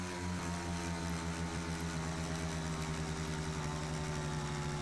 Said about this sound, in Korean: 오토바이가 이게 소리가 적어가지고 좋은 것 같아